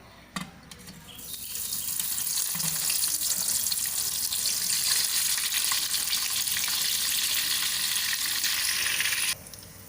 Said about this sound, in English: Allow it to fry for about 3-4 minutes till it is crispy.